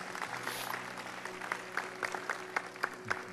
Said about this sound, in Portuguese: Salve de palmas para o Senhor, amém?